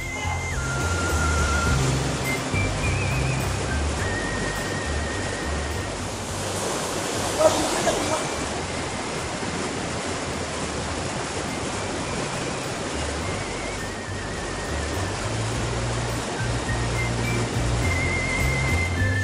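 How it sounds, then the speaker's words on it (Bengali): Water pours hard down the small Shuvolong waterfall in the hills of Rangamati, making a steady, close, loud rush that fills the whole stretch without a break, with a brief splash surging just before the midpoint. "এখানে পানির প্রচুর চাপ,"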